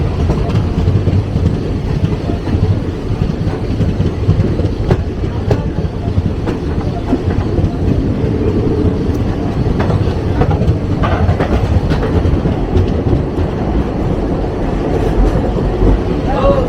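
Passenger train running steadily on its approach to Daund Junction, with continuous loud rumble and rhythmic clickety-clack of wheels over rail joints throughout, plus occasional faint clanks.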